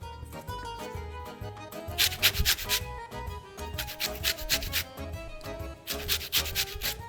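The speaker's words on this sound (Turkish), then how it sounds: "Bir de ferahlık vermesi için limon kabuğu rendesi koyacağım." Lemon peel is grated for zest over a bowl of chicken dish ingredients, giving rapid, rhythmic scraping strokes in close, clear bursts with short pauses between them.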